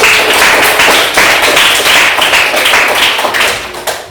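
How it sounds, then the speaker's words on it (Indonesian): A classroom of students applauds, a dense and loud burst of group clapping that carries on steadily for about four seconds before tapering slightly at the end. "tepuk tangan untuk Silvi"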